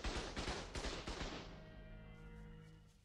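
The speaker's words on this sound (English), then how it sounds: "Look at them shoot at those Brontos." Automated turrets fire at Brontosaurus dinosaurs in the ARK survival game, a fast burst of rapid gunfire shots in the first second and a half that then trails off into a fading echo, heard fairly faint.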